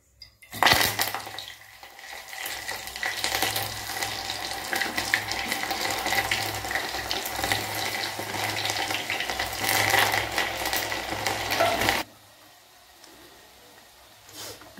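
Curry leaves, aloe vera and flowers tipped into hot coconut oil in a pan set up a loud, steady crackling sizzle that runs continuously, then cuts off abruptly near the end; no one speaks.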